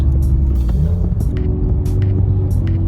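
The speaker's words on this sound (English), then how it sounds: "And a nice smooth rev match right there." A manual car's engine drones steadily up close as the driver clutches in from third gear and blips the throttle to rev-match a smooth downshift, with slight shifts in engine pitch and no voices.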